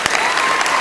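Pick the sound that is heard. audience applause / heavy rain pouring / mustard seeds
audience applause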